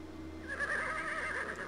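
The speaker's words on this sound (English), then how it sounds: "Horses sounds." Horse neighing in the video game King's Quest VI, a single drawn-out whinny with wavering pitch over a steady low game hum, fairly close and clear.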